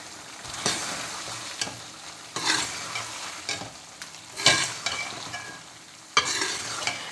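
Moongray fritters are stirred into masala frying in oil, with loud, close scraping strokes every second or so over a steady sizzle and no voices.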